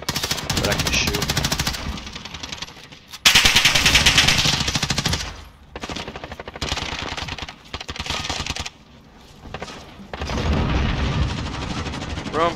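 Rapid automatic fire from a Grau 5.56 rifle in Call of Duty: Modern Warfare, heard as loud, dense bursts of shots broken by short pauses, with a voice talking faintly in places.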